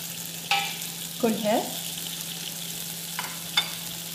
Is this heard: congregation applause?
no